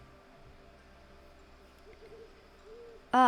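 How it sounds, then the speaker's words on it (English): An owl hoots softly a few times over a quiet low hum, then a sudden loud, bright tonal burst cuts in at the very end. "translating the owl's hoot into something more understandable"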